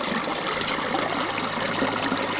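A very small waterfall in a stream over bedrock, giving a steady, dense rush and trickle of flowing water, close and continuous with no voices.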